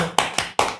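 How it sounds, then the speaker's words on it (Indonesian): Sharp hand claps sound in a steady rhythm, four crisp slaps close and loud in under a second, each ringing briefly in a room. "Tepuk tangan."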